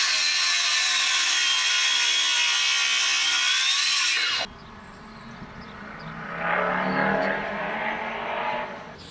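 Timber being sawn by hand for a bench seat, a steady rhythmic rasp of strokes that stops midway, followed by quieter handling and a softer scraping passage.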